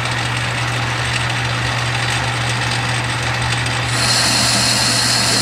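A lathe makes a cutting pass on a steam engine piston/spool valve, a steady machine hum with a constant low drone and dense broadband hiss, brightening slightly near the end, close and loud with no talk.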